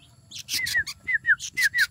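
Red-whiskered bulbuls calling close by, a series of bright, short whistled chirps and rising notes coming in quick bursts with brief gaps, clear and alone.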